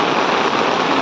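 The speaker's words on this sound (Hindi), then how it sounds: "प्रबल मात्रा वर्षा" Heavy rain pours down in a steady, loud, dense hiss with no pauses, filling the whole moment without any voices.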